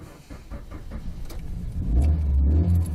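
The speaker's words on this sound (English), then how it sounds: "That is no performance car sound." A four-wheel-drive car with a manual clutch cranks briefly and catches near the end, settling into a deep, loud, unsporty idle rumble close by.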